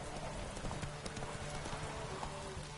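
Roach the horse galloping in The Witcher 3, a steady run of clip-clopping hooves close by, continuous over a bed of ambient game noise with no talking.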